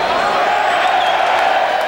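A crowd of stock traders on the trading floor cheers loudly as the Dow Jones Industrials hit 9,000, a steady close roar of voices with shouts and whoops.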